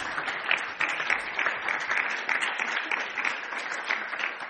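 Sustained audience applause fills the room after a panel discussion on Europe, a dense, steady clatter of many hands holding at even loudness throughout.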